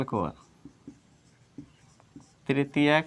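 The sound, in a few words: writing on a board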